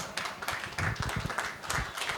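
An audience at a school poetry recital claps faintly and unevenly, in scattered, somewhat distant bursts that last only a couple of seconds.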